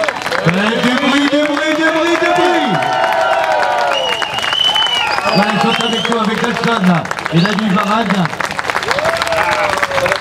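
A festival audience at the Nogent Legend Festival applauds stunt performers in a steady wash of clapping and crowd noise. An announcer talks prominently over it.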